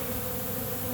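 Honeybees swarm around a beekeeper, making a dense, continuous buzzing hum that fills the moment at close range, with no voices.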